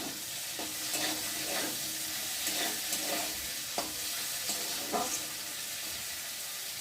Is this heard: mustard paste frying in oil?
yes